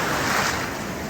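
Ocean surf and wind on the Atlantic near Tortola make a loud, steady, broadband wash, with rough wind buffeting the microphone throughout.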